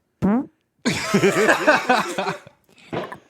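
A comedic imitation of an ant fart: short sputtering burst, then a longer wobbly flapping raspberry that breaks into chuckles, then a brief tail, all close and loud.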